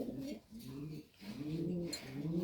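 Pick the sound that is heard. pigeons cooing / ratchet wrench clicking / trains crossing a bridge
pigeons cooing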